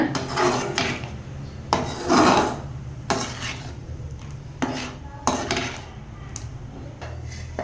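Repeated scraping and clinking of a utensil against a metal pan while stirring paneer butter masala, in irregular strokes with short pauses, close and fairly loud.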